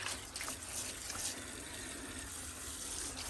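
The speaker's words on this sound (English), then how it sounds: "I am going to be adding some purified water." Purified water pours steadily into a pot of orange peels, a continuous soft splashing and trickling stream heard up close and alone for a few seconds.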